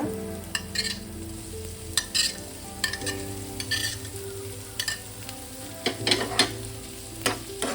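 Paneer pieces frying in a pan for a sandwich filling are stirred with a utensil, producing a continuous sizzle broken by repeated scraping and clinking strokes at an uneven rhythm, close up.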